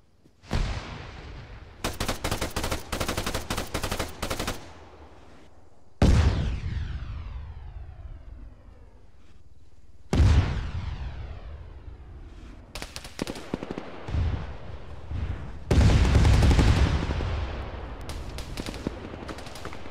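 Gunfire in Arma 3 comes in loud bursts of rapid automatic shots, some with long echoing tails, separated by brief quieter gaps over about twenty seconds.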